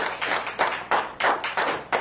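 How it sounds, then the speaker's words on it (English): Applause in a church service: several bursts of hand clapping, close and fairly loud, in uneven pulses. "A round of applause for her,"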